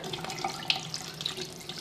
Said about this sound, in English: I do start the water.